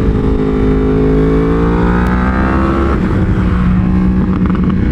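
A 2019 Yamaha R1 sport bike on a race track, its engine loud and close at high revs, pitch climbing in smooth sweeps with wind roar beneath, continuous with no talk.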